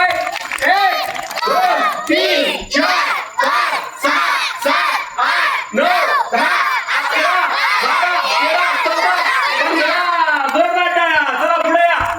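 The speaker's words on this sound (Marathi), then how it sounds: "रुपाली माने वहिनीसाठी जोरदार टाळ्या" A crowd at a Home Minister comedy show cheers and shouts loudly and steadily, with excited voices and whoops filling the room and rising in waves throughout.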